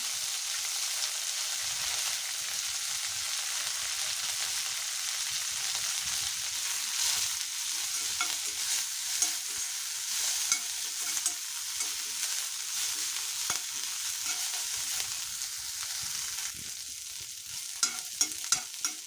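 Curry leaf powder roasting over a medium flame in a pan, a continuous close hiss and sizzle with faint scraping of stirring throughout and a few sharp clicks near the end.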